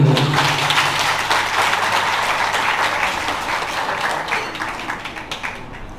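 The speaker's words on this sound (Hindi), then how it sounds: "सबके लिए एक जोरदार ताली हो जाए" An audience of parents and elders gives a hearty round of clapping for children at a Sanatan children's program, dense applause that starts strong and slowly thins out, with little talk.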